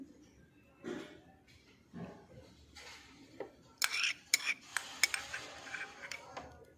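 Spoon scraping and clinking against a bowl while aloe vera gel is mixed, sharp metallic taps clustering in the second half, close and moderately loud with quieter rustling before.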